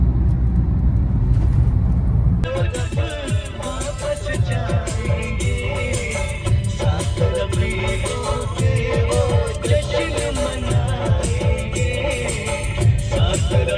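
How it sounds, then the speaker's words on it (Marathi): A car drives along a road on a trip to a village, with a steady, loud rumble of engine and tyres heard from inside the cabin and continuing without a break. "तर आता आपण ड्रायव्हिंग करत आहे आणि चाललो आहे आपल्या घरी"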